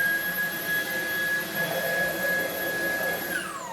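A Dreametech P10 Pro cordless stick vacuum cleaner runs close with a loud, steady motor whine and high-pitched tones, then winds down at the end, no one talking.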